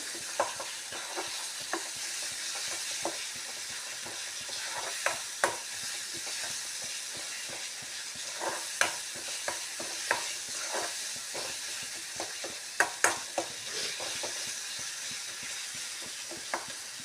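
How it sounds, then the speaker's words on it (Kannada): Ginger for pickle frying in a pan sizzles with a steady bright hiss, dotted with frequent small crackles and occasional stirring clicks, close and continuous with no talk. "ಒಂದು ಎರಡು ನಿಮಿಷ ಫ್ರೈ ಆಗಲಿ ಇದರಲ್ಲಿ"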